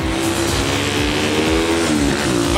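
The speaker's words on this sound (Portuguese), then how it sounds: "Vai passar uma moto." A motorcycle passes close by on a street, its engine a loud, steady buzzing drone that rises slightly as it goes past, filling the whole moment without any voices.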